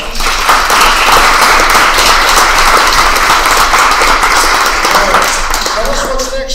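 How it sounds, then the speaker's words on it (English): An audience at a school board meeting applauds in a dense, steady wash of clapping that holds for several seconds before tapering slightly, with voices mixed in underneath. "let's give her a round of applause"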